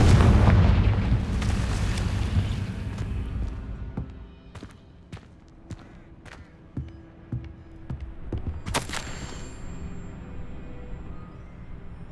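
A Confringo fire spell in Hogwarts Legacy bursts with a loud, rumbling blast that fades over a few seconds, followed by scattered sharp pops and crackles.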